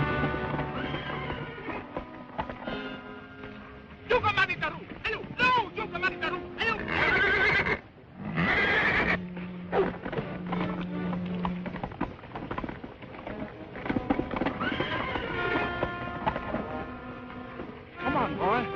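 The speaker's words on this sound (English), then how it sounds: "The horse is a worthy gift to your highness." A horse whinnies and hooves clip-clop in a 1936 Robinson Crusoe adventure serial, sounding amid dialogue and orchestral music that continue through most of the scene.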